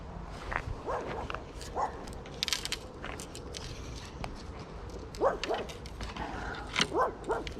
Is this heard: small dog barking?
yes